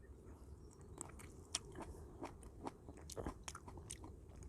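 Close, quiet bites and wet crunchy chewing on a juicy open-field Hallabong citrus from Jeju, a string of soft irregular clicks and squelches with no talking.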